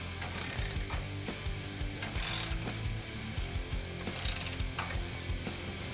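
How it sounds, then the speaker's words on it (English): A ratchet with a 19 mm socket clicks steadily while tightening bolts on the frame of a 1997–2006 Jeep Wrangler TJ during a 4-inch lift kit install, close-up with continuous mechanical clatter and no speech. "we can go ahead and tighten those down on our frame using a 19 millimeter socket and 19 millimeter wrench"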